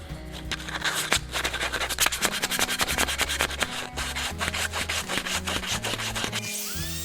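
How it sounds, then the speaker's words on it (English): Hand sanding of small wooden curves for a sword holder, a steady run of short rubbing strokes, close and fairly loud, with rhythmic back-and-forth scraping and no voices. "sanded by hand to get into the small curves"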